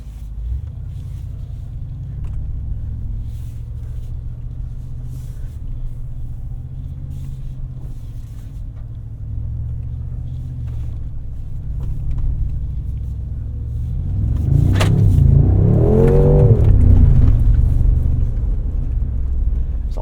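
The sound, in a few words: 2025 Mercedes-AMG G63 driving off-road on trails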